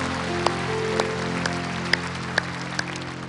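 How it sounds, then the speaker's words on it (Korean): Applause from a church congregation at the close of a Korean worship-service prayer, moderately loud and continuous, with a few sharper claps standing out over a steady hum of sustained tones. "주님께 영광의 박수 올려드립니다."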